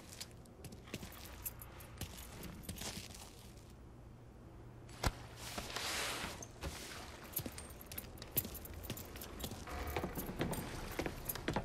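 Car keys jangle in Mafia 3, a sequence of small metallic clinks and rattles scattered across the stretch, fairly close, among faint mechanical handling noises and a short quiet gap.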